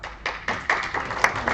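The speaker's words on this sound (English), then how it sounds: "Very sad clapping." A few scattered, uneven claps from a small group at a general assembly, right after a unanimous vote carries; the sparse hand claps come close, at irregular intervals, with no talk over them.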